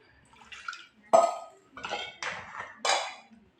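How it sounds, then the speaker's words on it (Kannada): Short splashes of water poured in a few separate bursts into a metal pot of spices for drumstick sambar, close by, with faint clinks between. "ಇದಕ್ಕೆ ನೀರು ಹಾಕ್ಬಿಟ್ಟು"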